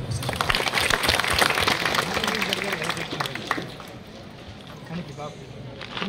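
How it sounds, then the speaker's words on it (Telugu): A room of parents at a school meeting with the principal breaks into brief, dense applause that fades after a few seconds, with voices talking underneath. "ఒకసారి సార్ క్లాప్స్ కొట్టండి"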